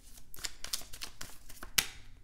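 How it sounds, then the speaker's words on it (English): Tarot cards being shuffled by hand, a quiet run of rapid papery riffles and soft slaps with one sharper snap near the end, heard alone. "Let me shuffle this."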